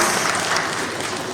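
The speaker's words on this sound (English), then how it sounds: "A huge round of applause for our guests." An audience at a climate change conclave in Uttar Pradesh gives the guests a brief, dense burst of applause, steady crowd clapping that stays loud throughout.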